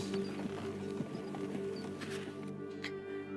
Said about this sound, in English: His horse barely trudges along.